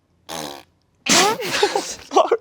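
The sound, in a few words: voice imitating a fart noise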